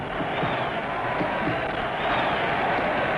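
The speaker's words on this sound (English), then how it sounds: "The crowd goes wild as George tries to press his advantage" A boxing crowd roars continuously for a title fight between Dempsey and Carpentier, a dense, loud wash of cheering and shouting that holds steady from start to finish.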